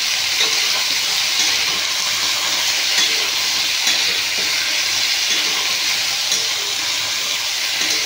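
Chopped kohlrabi (olkopi) frying in a pan and getting stirred, a steady dense sizzle with a constant bright hiss and no pauses, close and fairly loud, with no talking.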